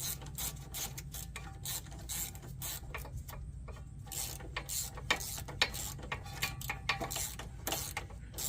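A ratchet with a 10 mm socket works on a Dodge Grand Caravan's front suspension, a quick run of faint, close mechanical clicks that rises and falls in short bursts.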